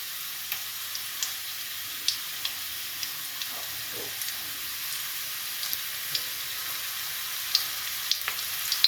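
Chopped garlic and onion fry in a pan with a soft, continuous sizzle and hiss, with scattered small pops and crackles throughout.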